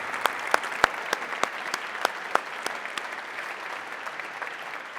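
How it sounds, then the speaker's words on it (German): Light, sparse applause from a small audience at a startup demo day, a scattering of distinct claps over a soft wash of clapping, fairly near and steady, no speech over it. "Das ist euer Applaus, wunderbar."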